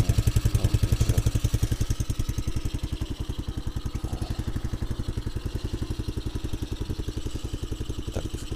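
Small engine of a DUX Maugli children's quad bike idling steadily up close, a fast, even putter that stays loud and unbroken throughout, with no talk over it.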